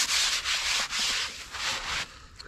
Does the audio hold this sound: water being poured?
no